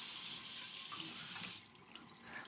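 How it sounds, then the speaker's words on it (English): A kitchen faucet runs hot water into a sink in a steady, close rushing stream that eases slightly toward the end, with no talking. "let the faucet run a little bit and make sure that there's hot water"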